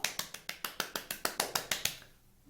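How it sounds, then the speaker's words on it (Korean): A congregation at a children's church service claps in unison, about eleven sharp, evenly spaced claps in a quick steady rhythm that then stop, leaving near silence. "하나님께 영광의 박수!"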